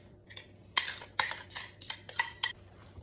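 Mashed overripe banana being stirred into flour batter in a bowl, a run of sharp uneven clinks and taps of a utensil against the bowl, close and fairly quiet between strikes.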